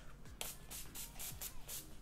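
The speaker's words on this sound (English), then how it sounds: "Now it's time for the setting spray. We have the NYX Dewy Finishing Mist." NYX Dewy Finishing Mist setting spray is pumped in about five quick, quiet hissing spritzes at a steady rhythm, close by with no talking.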